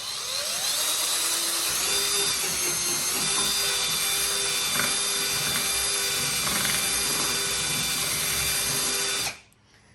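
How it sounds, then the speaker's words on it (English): A power drill whines steadily at close range for about nine seconds, its pitch wavering slightly as it bores a hole in an ATV fender, then cuts off abruptly. "I'm just going to take my drill and I'm just going to drill a hole"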